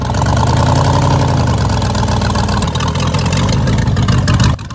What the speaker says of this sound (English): generator runs on the legendary Junkers 1HK65 diesel engine